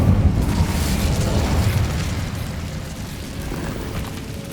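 The Incendio fire spell from Hogwarts Legacy erupts in a loud, low, roaring burst that swells at once and then slowly fades over a few seconds, with no voices.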